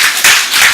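Church congregation clapping during a Sunday morning service, a short burst of dense, loud applause that swells and ebbs over under a second.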